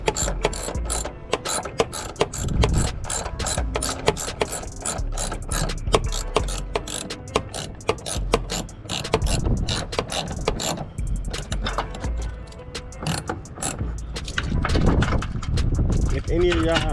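Ratchet clicking in quick bursts while parts are loosened during a cold air intake install on a Dodge Challenger, close and sharp, with a voice talking over it.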